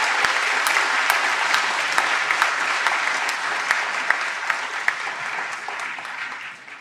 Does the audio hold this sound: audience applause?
yes